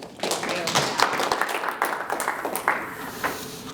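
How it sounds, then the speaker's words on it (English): An audience at a talk on advice columns and the American Yiddish press gives a short round of applause, scattered claps with some thumps, moderately close. "please do join me in giving a round of applause"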